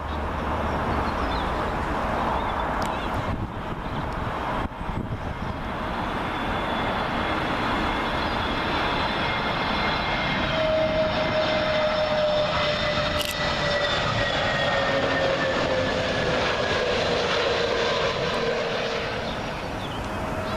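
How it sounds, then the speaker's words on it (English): Aer Lingus Airbus A320neo from Dublin arriving on runway 27L at Heathrow, a loud sustained jet roar with a rising then falling engine whine as it passes overhead, no talk. "Next in to arrive, Aer Lingus A320neo, arriving in from Dublin."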